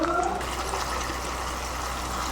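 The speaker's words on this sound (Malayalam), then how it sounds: "അപ്പോൾ വെള്ളം കൂടി ഒഴിച്ചു കൊടുക്കുന്നുണ്ട്." Water pours into a pan of leftover chicken masala after pressure cooking, a steady splashing, gurgling flow that runs continuously and close, with no talking.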